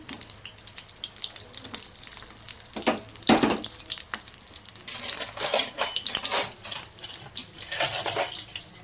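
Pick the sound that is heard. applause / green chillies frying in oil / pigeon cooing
green chillies frying in oil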